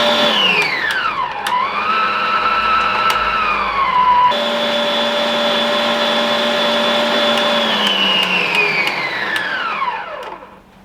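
A budget stand mixer motor runs loud and close with a steady whine that shifts pitch as the speed changes, then spins down and fades out at the end.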